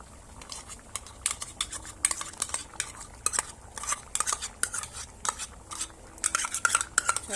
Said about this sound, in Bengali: এটা দিয়ে একটু ভালো করে এবার নাড়িয়ে নিই